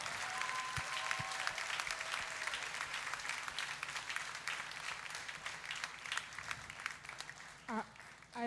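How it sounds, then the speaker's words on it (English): Sustained audience applause at a 2024 secondary school graduation ceremony, a dense crowd of clapping hands filling the hall, steady and loud throughout before tapering near the end. "Could we give a heart-warming, heartfelt round of applause for all of our valedictorians this morning?"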